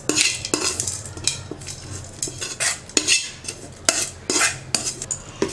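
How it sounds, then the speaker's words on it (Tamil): A spoon scrapes and clinks against a bowl while idli batter is stirred with grated cucumber and sautéed onion. The clatter comes in irregular, close, moderately loud strikes, and no one speaks. "இப்போ எல்லாத்தையும் சேர்த்து நல்லா மிக்ஸ் பண்ணி விட்டுக்கலாம்"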